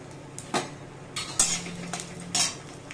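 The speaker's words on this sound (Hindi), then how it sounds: "ये जो नारियल काट के रखा था इसको फ्राई कर लेते हैं" Chopped coconut stirred in a frying pan, a few scraping and clinking strokes of a spoon against metal over a soft sizzle, no talking.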